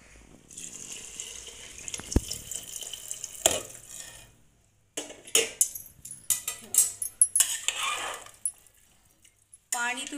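Hot water is poured into a pot of Khandeshi masala khichdi in bursts of splashing and gurgling, with quieter clinks of utensils in between.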